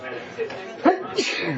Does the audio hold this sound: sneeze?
yes